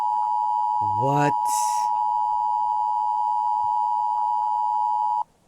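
In a horror video game mod, a loud, steady emergency alert tone drones without a break for about five seconds before cutting off, while a brief voice speaks over its start.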